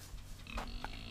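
Pig on a farm giving a couple of short, quiet grunts, faint and brief against low background noise.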